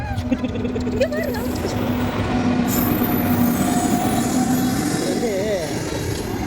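A train rumbles in with loud, steady wheel noise, squealing wheels and a sustained horn-like tone, with voices talking underneath.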